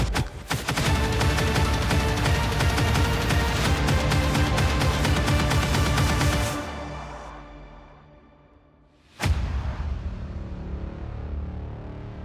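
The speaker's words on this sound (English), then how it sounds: "They are adding guns, actual guns, and not just one kind of gun, but an entire selection of weapons." Rapid, loud bursts of gunfire in the SlendyTubbies 3 video game trailer fire continuously for several seconds, then cut to near silence before a single sharp blast sets off a trailing rumble.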